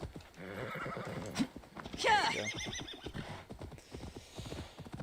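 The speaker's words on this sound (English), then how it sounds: "we should probably call the horse for that too" Hooves clip-clop steadily through a video game scene as a horse is called over, with one sharp neigh rising mid-clip; a player talks over most of it.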